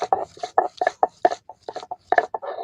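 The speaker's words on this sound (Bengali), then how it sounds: "আদাগুলো একটু ভালো করে বেটে নেব।" Ginger being ground into a paste on a grinding stone, heard as a close series of short, uneven scraping and rubbing strokes in a quick, irregular rhythm.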